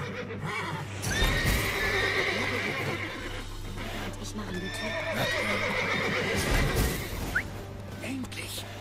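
Horses in The Witcher 3 video game whinny loudly in two long, shrill calls over trotting hoofbeats and a steady low hum, while someone talks briefly.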